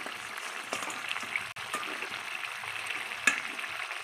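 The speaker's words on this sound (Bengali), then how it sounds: "এবার ভেজে রাখা মাছের মাথাটা দিয়ে দেবে" A fried fish head goes into a pot of boiled rice and is stirred, giving a steady close sizzle and hiss with a couple of light knocks. No talking is heard.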